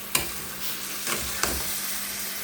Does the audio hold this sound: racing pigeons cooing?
no